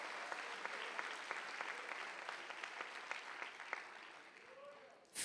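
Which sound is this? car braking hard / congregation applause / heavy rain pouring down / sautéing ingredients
congregation applause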